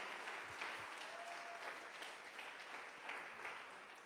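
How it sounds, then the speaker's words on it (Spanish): Loud, sustained applause from a church congregation fills the room evenly for the whole stretch, a dense steady clatter of many hands with no talking over it. "Denle un aplauso bien fuerte a Jesús"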